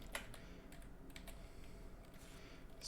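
Quick keystrokes on a computer keyboard, typing a short terminal command, close and crisp with irregular clicks over a low hum.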